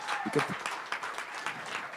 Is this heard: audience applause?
yes